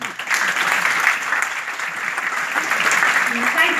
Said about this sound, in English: Wouldn't you clap for me?